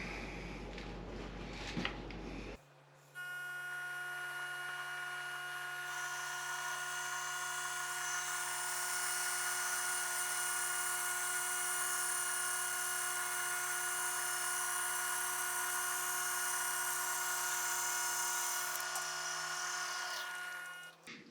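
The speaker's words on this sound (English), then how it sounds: "we went chucked up a 24 millimeter Forstner bit" A 24 mm Forstner bit bores out a ring blank for a custom inlay ring, a steady high-pitched whine running continuously for about eighteen seconds after a brief rustle of handling, then winding down.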